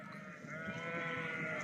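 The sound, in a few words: lambs bleating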